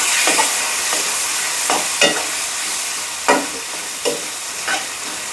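Mutton liver seasoned with chili powder stir-fried in a pan, a steady close sizzle punctuated by about half a dozen sharp scraping strokes of the spatula at irregular intervals, with no talk.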